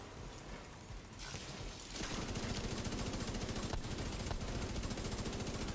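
Sustained automatic gunfire from The Division 2 shooter game, a dense rapid rattle of shots running almost continuously and loudly, with mechanical clatter mixed in and no speech.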